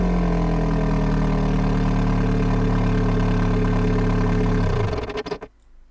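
Simulated engine from an engine-simulator game, rated at 127 brake horsepower, runs with a loud, steady low hum for about four and a half seconds, then dies away and falls quiet.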